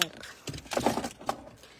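A 2018 Ford EcoSport key ring that includes a remote starter fob jangles in a few short metallic clinks close by, with a voice speaking over it.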